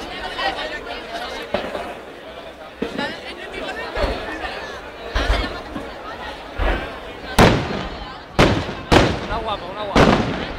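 Fireworks bursting at the Castell de Falles in Valencia, with several sharp, loud explosive bangs in the latter half, heard amid continuous crowd chatter and nearby voices talking.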